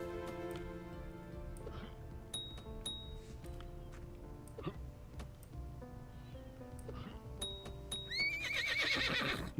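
A donkey hunted in the video game Vintage Story brays and whinnies in a sharp burst near the end, after quieter game ambience with clicks and ticks and faint rustling.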